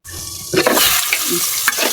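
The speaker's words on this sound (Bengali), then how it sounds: "এখন এটার মধ্যে সিদ্ধ করা আলুটি ছেড়ে দিন এই আলুটি ভালোভাবে একটু কষাই" Boiled potatoes stirred and fried in spiced oil for an egg-and-potato curry, with close scraping stirs and a steady sizzle throughout, no talking.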